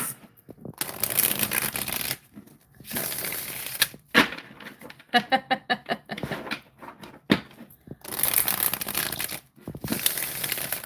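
A new tarot deck is riffled and shuffled by hand in repeated bursts of crisp card flutter, with a run of rapid clicking riffles in the middle and short pauses between, close and fairly loud.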